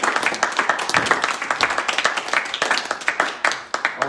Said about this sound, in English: Gilbert Gordon, give him a big round of applause.